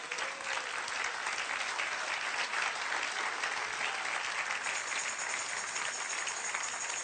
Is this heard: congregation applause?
yes